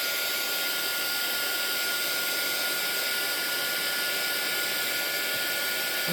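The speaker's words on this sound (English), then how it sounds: "And let's hit that with the heat gun." A heat gun blows with a steady, loud airy roar and whine that holds constant and unbroken throughout, with no voices over it.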